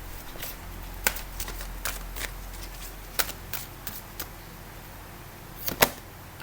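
Angel oracle cards being shuffled make soft, scattered riffling snaps and taps, faint and close, with a few sharper flicks near the end and no talk.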